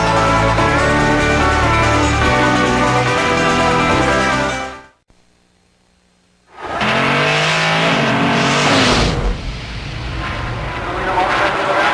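NASCAR stock cars racing at Pocono Raceway in Pennsylvania during the 2000 Pennsylvania 500, a loud engine roar that cuts out to near silence briefly, then returns with cars accelerating past, while commentators talk over it.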